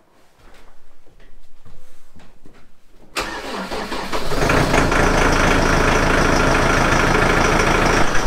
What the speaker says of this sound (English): let's hope this uh, tractor starts this morning